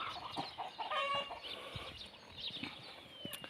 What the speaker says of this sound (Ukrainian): Гуси курей гоняють.